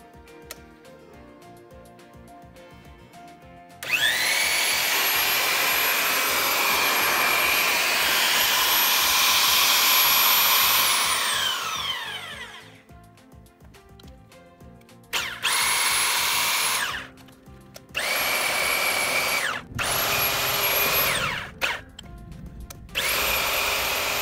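A power pipe threader cutting threads on 1.25 inch pipe with 1.5 inch dies gives a loud, steady high whine for several seconds, then a pause and three shorter runs of the same grinding whine, with no talking.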